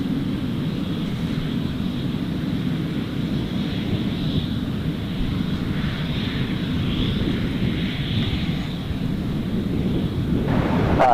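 Aircraft engines roar steadily at Gold Coast Airport during an airshow, a broad continuous rumble with some wind buffeting and a faint higher whine rising and falling in the distance.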